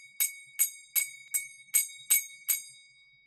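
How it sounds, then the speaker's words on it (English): A bright, high bell in Valheim rings seven times at an even, quick pace, each strike crisp and ringing out briefly, with no voices over it. "That would just stop it from ringing. You'd want it to hang so it could ring."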